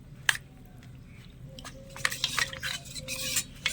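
A jackfruit chop mixture being stirred and mixed by hand in a metal bowl, wet squelching and repeated clinks of a spoon against the vessel, close and growing busier, with no talking.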